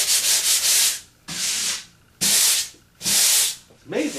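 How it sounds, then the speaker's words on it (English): Sandpaper rubbed by hand over a drywall patch, four or five loud, close, broad scratchy strokes separated by short pauses. "It's amazing how well a big piece of sandpaper does."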